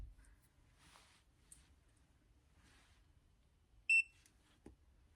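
A single sharp electronic beep from a TYMO ROVY hair curler signals it is ready, sounding close amid quiet handling noises and soft rustles.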